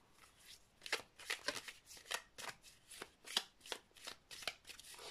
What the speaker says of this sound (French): je vais prendre une carte aujourd'hui de l'oracle des elfes